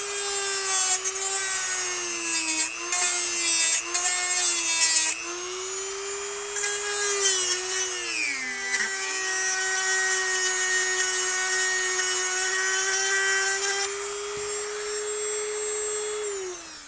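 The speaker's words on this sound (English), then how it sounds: "what we're going to do is just use a cutter head. This is one of these small barrel cutter type heads." A rotary tool fitted with a small barrel cutter head cuts into a G&G ETU Version 2 airsoft gearbox, giving a loud, continuous high whine that dips and rises as the bit loads against the part, with brief rubbing interruptions early on.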